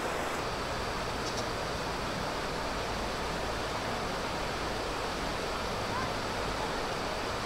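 Steady broadband rush of a river flowing past a riverside campsite in Liliw, Laguna, continuous and fairly close with no talk over it.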